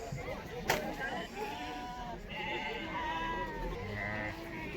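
Lambs bleat repeatedly among livestock at the Karabulak animal market, their calls rising over a busy crowd with someone talking nearby throughout.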